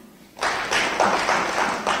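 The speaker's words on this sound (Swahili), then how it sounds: "Tumpigie makofi." Audience applause in a conference hall at a 2019 public procurement forum: a sudden burst of clapping from a crowd that swells and holds steady, loud and fairly near, with no talking over it.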